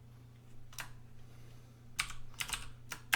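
Computer keyboard typing a new folder name, a few quick bursts of key clicks, close and fairly quiet over a steady low hum, with gaps between the bursts.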